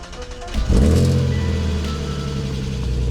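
A BMW E36 engine cranks briefly and catches, then settles into a steady close idle, loud and continuous with no talk over it.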